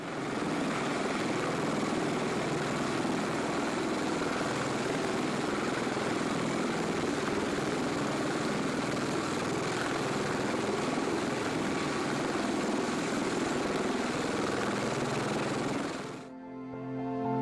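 A V-22 Osprey tiltrotor aircraft makes a loud, continuous rotor roar with a dense, droning wash of noise that holds steady and then cuts off abruptly near the end.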